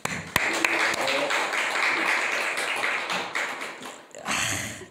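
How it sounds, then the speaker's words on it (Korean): Church congregation applauding together, a steady dense wash of clapping that holds for several seconds, briefly eases, then swells again near the end. "하나님께 박수를 한번 영광 돌립시다"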